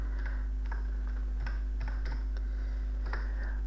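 Keys clicking on a computer keyboard while typing in Word 2016: a handful of sparse, light taps at irregular intervals over a steady low electrical hum, close and fairly quiet.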